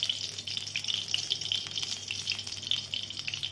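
Oil heating in a wok (kadai) for a vegetarian mixed-vegetable labra, giving a steady, moderately loud hiss and crackle that runs without a break, with no one talking.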